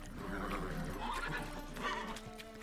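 A horse in the Witcher 3 video game whinnies in a few rising, wavering calls with some hoof clops mixed in. The sound is fairly close and moderately loud over low game ambience.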